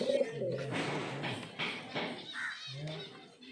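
Pigeons cooing inside a coop holding eggs and chicks, low repeated coos close by with a steady murmur around them and someone talking over part of it.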